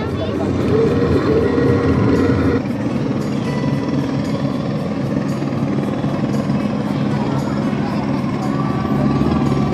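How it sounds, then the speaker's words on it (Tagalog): A helicopter passes near a Legoland park in Nagoya, Japan, giving a steady loud rotor drone with a rapid chopping beat. People talk excitedly throughout. "Look at the helicopter."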